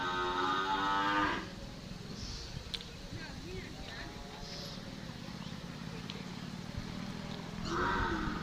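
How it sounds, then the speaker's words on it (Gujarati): Cattle lowing on a rural road at evening as cows and buffalo return home from grazing, one long moo at the start and another near the end, with quieter farmyard ambience between. "જો સામે રોડ ઉપર ગાયો આવે છે"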